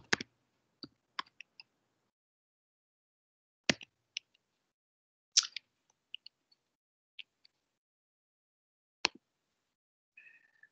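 Sparse, light clicks of a computer keyboard, a few isolated keystrokes with long quiet gaps between them, faint and close.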